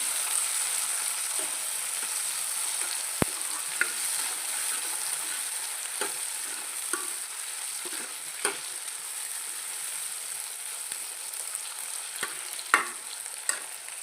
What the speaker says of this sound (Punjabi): ਪਤਲੇ ਕੱਟੇ ਹੋਏ ਜਿਹੜੇ ਨੇ ਆਲੂ ਪਾ ਦੇਣੇ ਨੇ ਇਹਨਾਂ ਨੂੰ ਵੀ 2-3 ਮਿੰਟ ਫਰਾਈ ਕਰ ਲੈਣਾ